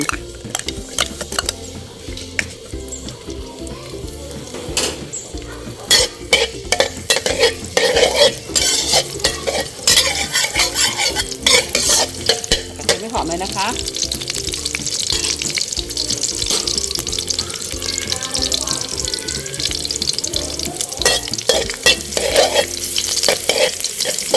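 Garlic frying in oil and being stirred in a pan while a stuffing is cooked for a stuffed-egg dish, a steady close sizzle broken by repeated scraping stir strokes and some running-water sounds, with no talking.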